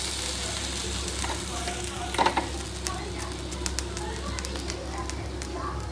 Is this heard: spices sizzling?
yes